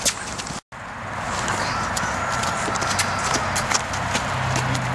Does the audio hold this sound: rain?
no